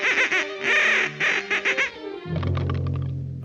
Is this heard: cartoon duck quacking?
yes